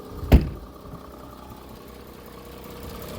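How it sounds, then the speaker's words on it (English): An Audi Q7 with a 48V charging fault idles nearby: a steady low engine hum throughout, with a brief thump near the start and no voices. "engine is running"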